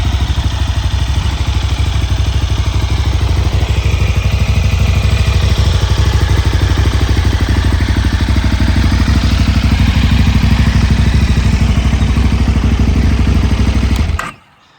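A KTM SM 990T motorcycle idles loud and close in a steady, rapid engine throb, its exhaust pulsing evenly until the engine is cut and it stops abruptly at the end.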